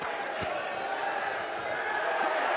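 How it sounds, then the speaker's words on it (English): Dense, steady crowd roar from a rugby league Challenge Cup match between Whitehaven and St Helens, a continuous cheering wash filling the stadium with a few brief louder bursts near the start. "Well, that certainly got the crowd excited."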